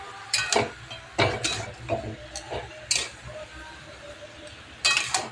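Chicken being stirred with spices and chili paste in a pan: intermittent metallic clinks and scrapes of a spoon against the pan in uneven bursts over a quiet background.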